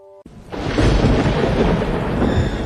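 Thunder from a lightning strike during a rainstorm: a sudden loud, broad rumbling crash that erupts after a brief quiet start and rolls on steadily without fading, with no voices.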